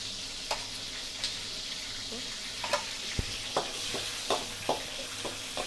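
Sizzling of Thai curry chili paste with shrimp in a hot wok, scattered clicks and scrapes of a utensil stirring, steady background hiss, no talking.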